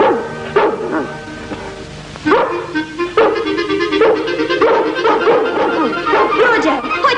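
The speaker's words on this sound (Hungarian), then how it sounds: "Néha éjszakánként hallani vélem az ugatásukat." Dalmatian puppies bark in a lively cluster of yips and woofs, several overlapping in quick bursts and close by, mixed with busy background activity.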